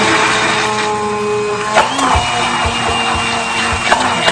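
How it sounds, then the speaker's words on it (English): An immersion blender whirs steadily as it blends homemade mayonnaise, a continuous motor drone with a few thumping bumps as the stick shifts in the container, close and loud with no talking. "So then I'm going to use my immersion blender."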